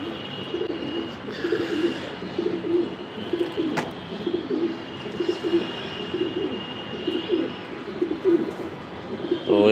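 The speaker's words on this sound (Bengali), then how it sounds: "কবুতরগুলো ভালো আছে সবগুলোই" Racing pigeons coo continuously in a loft, a dense overlapping chorus of low rolling calls from many birds, close and steady throughout.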